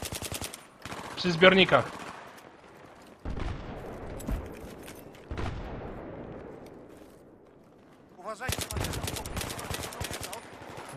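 Automatic gunfire from Battlefield 3 multiplayer comes in bursts, a loud rattling volley early on and a long rapid stream of shots near the end, with players talking in between.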